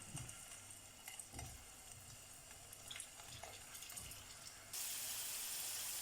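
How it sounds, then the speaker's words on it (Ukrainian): Young potatoes crackle and sizzle in hot oil in a frying pan over medium heat, with occasional stirring clatter, then a brighter, louder hiss of frying near the end. "Смажимо на середньому вогні до золотистого кольору"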